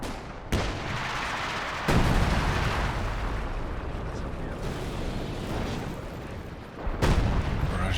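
Heavy LEFH howitzer barrage in a Company of Heroes 2 match: loud, dense rumbling blasts fill the whole stretch, with sharp new impacts near the start, around two seconds and again near the end, with faint voices underneath.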